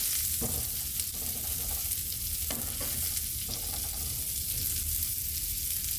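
A Beyond Burger plant-based patty sizzles and fries in a pan, a close, steady crackling hiss with brief scraping stirs or flips now and then, no talking.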